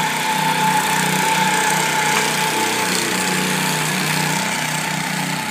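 A core aerator with tines that push into the lawn and pull out soil plugs runs nearby. Its engine gives a loud, steady drone with a faint rhythmic thumping, heard alone with no voices.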